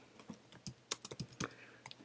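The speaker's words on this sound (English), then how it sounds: "You would just type the message in here." Quick run of keystrokes on a computer keyboard as a message is typed, crisp close clicks in an uneven patter lasting about two seconds, no talking.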